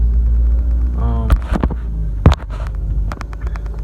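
A steady low engine hum and road rumble fill the cabin of a 2017 Dodge Journey while it is driven, with a few sharp knocks and clicks scattered through.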